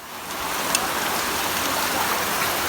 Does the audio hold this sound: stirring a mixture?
no